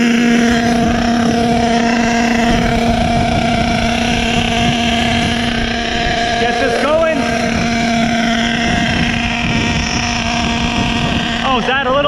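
An HPI Savage XL nitro RC truck with a K5.9 engine and two-speed transmission runs loudly and continuously, its high buzzing whine holding steady with brief pitch rises, close and dominant throughout.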